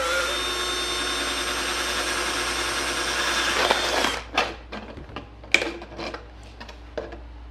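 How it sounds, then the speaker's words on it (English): A power drill bores a hole through the top half of a plastic bottle for a homemade pepper planter, a steady loud whine for about four seconds that cuts off, followed by a few short bursts of drilling. "I'm going to just put it back in my drill here, and we'll just carefully drill."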